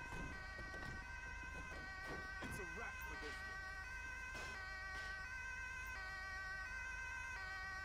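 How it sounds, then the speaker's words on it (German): A wailing emergency vehicle siren in a video game, its steady rising and falling tones running throughout, faint, with voices talking over it. "ihr könnt eure Sirene auch ausmachen, ne?"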